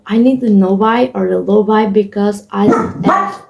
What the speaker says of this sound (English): That's my dog, Max.